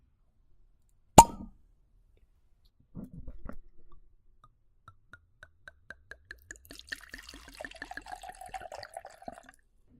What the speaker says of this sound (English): Let's pop open this bottle.